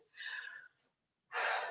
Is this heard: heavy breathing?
yes